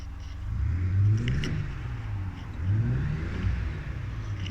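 A cheap old Mercedes G-wagon that had trouble running above idle revs up twice, its engine climbing in pitch and falling back, heard up close with a low steady rumble between revs.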